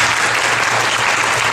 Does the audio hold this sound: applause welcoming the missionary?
yes